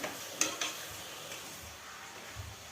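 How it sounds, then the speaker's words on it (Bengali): Potatoes frying in a pan are stirred with a utensil, giving a few sharp scraping clinks early on over a soft sizzle that continues faintly. "এবার আমি নাড়বো।"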